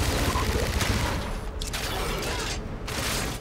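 Rapid automatic gunfire in Call of Duty: Infinite Warfare, a dense rattling stream of shots with mechanical clatter, loud and continuous, with a few short breaks in the firing.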